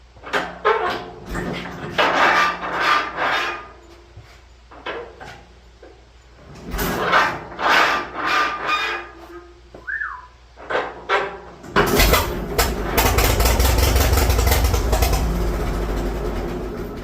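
A McCormick-Deering 10-20 tractor engine is cranked by hand, with rattling, clanking turns that build until it catches at the end and runs loud and steady, close by.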